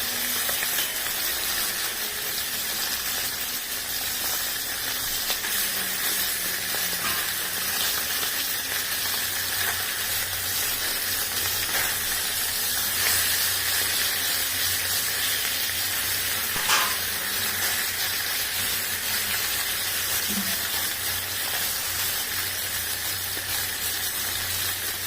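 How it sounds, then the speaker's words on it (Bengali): Boroli fish fry in a pan with a continuous, even sizzle and hiss, steady and close throughout with a few faint knocks. "এখন সব মাছগুলো এক এক করে ভেজে নিচ্ছি"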